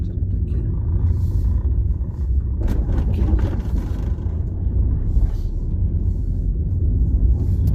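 Steady low road rumble from inside a car driving on a mountain road in Italy, loud and continuous, with faint wind noise and no one talking.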